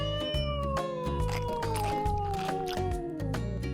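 A cartoon cat in a children's counting animation lets out a long, drawn-out meow that slowly slides downward over a few seconds, accompanied by steady bouncy background music.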